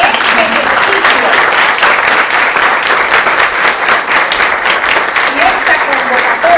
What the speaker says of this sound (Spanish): Quisiera pedir un aplauso bien sonoro para esta dama